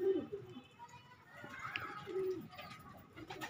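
Fantail pigeons cooing in a loft: a few soft, low, rounded coos repeat at a relaxed pace over faint background noise.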